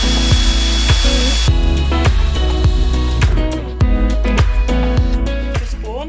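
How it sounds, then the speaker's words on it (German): Power drill boring a hole while side and roof windows are fitted in a van conversion, with metal shavings coming off; a loud, steady mechanical whine runs throughout, broken by repeated sharp knocks and pulses. "Als allererstes werde ich jetzt ein Loch bohren"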